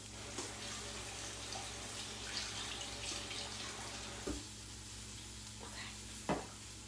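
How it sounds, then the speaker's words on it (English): Asparagus frying in a pan for a panini gives a steady, close sizzle throughout, with a few brief clanks or stirring bumps near the end and no one talking. "And we'll let that fry up."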